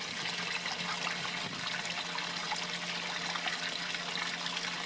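Water driven by a pump flows steadily through a solar water heating prototype, a smooth continuous trickle and gurgle that holds an even level throughout without sputtering.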